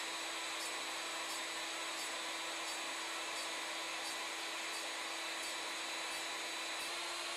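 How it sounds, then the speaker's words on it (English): A CNC machine mills the straight section of a wooden Native American flute with a fine 1/8 inch step over, giving a steady, continuous high whine and hiss with faint periodic ticks, running alone without any talk. "we milled the straight section of the flute using an 1/8 inch step over to give us a beautiful finish"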